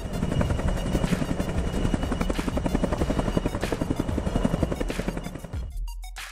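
Helicopter hovering close over a mountain summit to pick up climbers, a loud, steady rotor chop with rhythmic blade thumps and turbine whine throughout, cutting off abruptly near the end.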